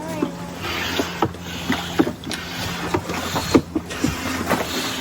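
A hand pump inflates a leaking old dinghy on a sailboat dock in Tonga, giving repeated rhythmic pumping strokes with squeaks and thumps, fairly close, over background noise and faint voices.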